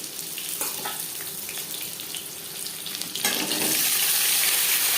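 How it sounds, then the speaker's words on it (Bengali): Potatoes drop into hot oil with panch phoron and bay leaf, a steady frying hiss that swells into a louder, brighter sizzle partway through. "পাঁচফোড়ন তেজপাতা ভেজে নেওয়ার পর দিয়ে দেবো আলু"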